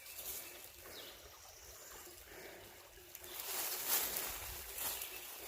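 A small, overgrown creek in the woods trickles and burbles steadily, faint and broadband, swelling a little louder toward the end with no talk over it.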